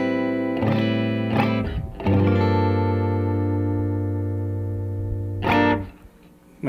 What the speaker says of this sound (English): it's an overdrive pedal, not a distortion pedal